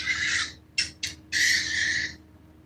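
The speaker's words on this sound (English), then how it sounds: "That's a loud bird" A loud bird calls at night beside the water: one long harsh call, two short sharp bursts, then another long drawn-out call, all clear and close, with no talk.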